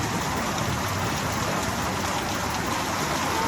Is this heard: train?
no